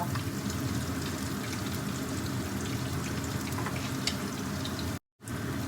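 Salmon pieces fry over high heat in hot oil for a Thai basil stir-fry, making a steady, dense crackling sizzle at close range that cuts out briefly near the end.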